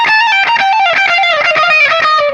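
A fast run of distorted electric guitar notes in a rock lick, loud and continuous, with rapid picked attacks rising and falling in pitch.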